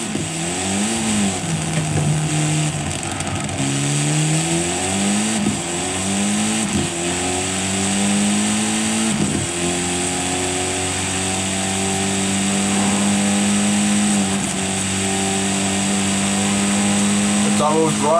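A 2.2-litre car engine in Forza Horizon 5 revs repeatedly, pitch sweeping up and down in bursts, then settles into a steady loud drone; a voice talks over it.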